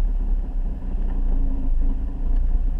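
A manual car's engine hums low and steady as the clutch comes out and the car rolls off, a continuous rumble with slight swells and no voices.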